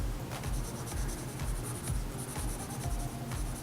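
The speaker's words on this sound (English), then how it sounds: "Now I've used one pencil all through for this." Graphite pencil cross-hatching a drawing of a stone on paper: steady, close scratchy strokes rasp back and forth in a continuous rhythm, fairly quiet and alone with no voice.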